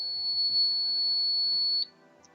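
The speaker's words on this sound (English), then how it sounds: "if the door is opened, automatically an alarm is indicated" A laser and LDR security alarm buzzer gives a steady, thin electronic tone that holds for almost two seconds and then cuts off, with faint background noise.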